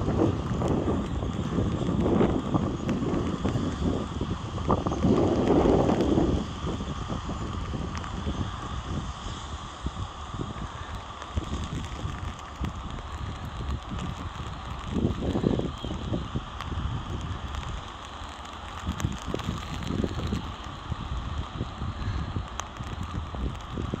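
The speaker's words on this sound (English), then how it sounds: "And the wind is up to 8 meters per second." Gusty wind up to about 8 meters per second with rain on a chilly day in Hafnarfjörður, Iceland, a continuous rough rush and rumble of wind against the microphone with patter underneath, steady and fairly loud throughout.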